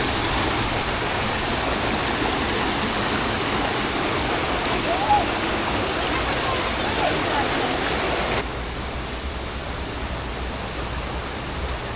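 A river flows near a camping ground in Magallanes, Cavite, producing a steady, loud rushing wash of water that fills the whole stretch and drops a little in level near the end.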